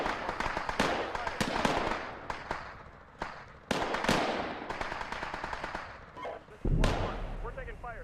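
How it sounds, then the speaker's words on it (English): Gunfire in a military video game: bursts of rapid shots and heavier booming blasts, some close and loud, others more distant, with a voice talking among them. "We're taking fire here."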